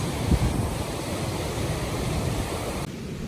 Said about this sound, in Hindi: ये पानी की धारा इतनी तेज जो कि ऊपर गौमुख से गंगोत्री के लिए भागीरथी नदी बह रही है।